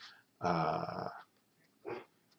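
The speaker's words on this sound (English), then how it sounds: "My dog's barking, wants to go out." A dog at home gives a low growl, then a short second bark-like growl after a pause, faint and close with no talk.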